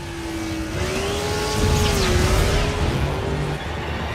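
A race car engine screams in a long steady tone that climbs slightly as the car pulls ahead with a nitrous boost. The roar stays loud and close, with tire and road noise rushing underneath.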